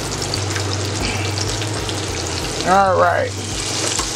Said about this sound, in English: We're gonna get those frying up.